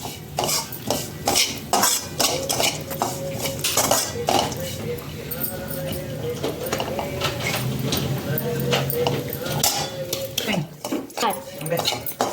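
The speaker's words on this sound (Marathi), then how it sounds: "खोबरं आपलं खिसून घेतलेलं आहे आणि आता ते छान आपल्याला याच्यात परतून घ्यायचं" Dry grated coconut being roasted and stirred in a pan for modaks, with steady scraping and clinking of a metal spoon against the pan, close and fairly loud, while someone talks over it.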